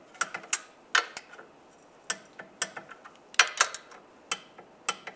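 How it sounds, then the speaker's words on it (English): A torque wrench tightens bolts on a 1999-2005 Volkswagen Jetta during a front CV axle job, giving sharp irregular metallic clicks and ratchet ticks in short bursts over a quiet background. "Then you want to torque these bolts to 15 foot-pounds."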